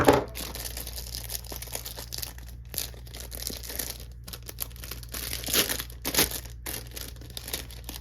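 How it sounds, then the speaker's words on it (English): A package being cut open and torn apart, with steady crinkling and crackling of wrapping, sharp tearing bursts and rustling handling noise close by, no voices. "let me cut this open."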